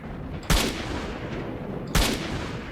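Two sharp gunshots in the video game S.T.A.L.K.E.R.: Shadow of Chernobyl, about a second and a half apart, loud and punchy over a steady background hum, with no other sounds between them.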